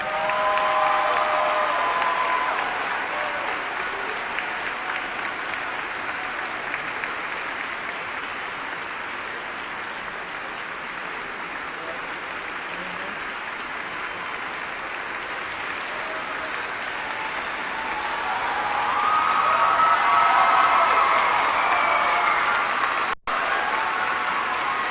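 Sustained audience applause in a concert hall honoring a 2014 Huntsville Choral Directors Association Hall of Fame inductee at an all-city festival concert, steady throughout and swelling louder near the end before cutting off.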